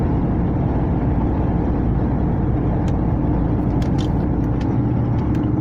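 The diesel engine of a curtain-sider truck labours up the climb onto the Sheppey Bridge, a loud, constant low drone that barely changes and has no voices over it.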